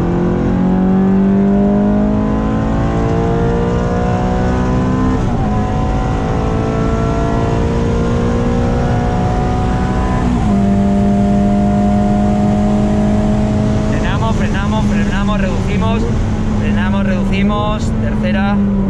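A Ferrari F430 F1 at full throttle on the Circuit de Catalunya, heard loud and close from inside: the engine climbs through the revs again and again with quick upshifts breaking the rising whine.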